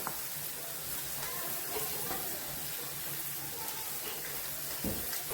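Fish goes into a pan of simmering curry in a home kitchen, and a steady soft sizzle and bubble carries on throughout, fairly faint and continuous, with a few small knocks near the end.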